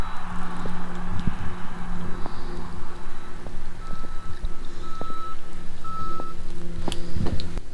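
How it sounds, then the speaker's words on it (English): Snow plow truck working a road on a cold, slushy day, its engine rumbling at a distance while repeated reversing beeps sound in short evenly spaced pulses, with scraping and clanks scattered throughout. "You hear the plow truck down the road."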